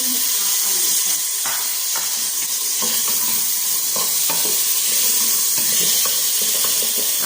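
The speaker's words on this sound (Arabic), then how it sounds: "تقلي فيهم جيدا" Vegetables and olives frying in oil in a pan for a meat-free tagine, with steady close sizzling and occasional stirring clatter throughout, no talking.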